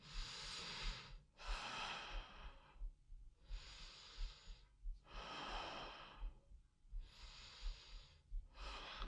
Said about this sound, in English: Inhale down,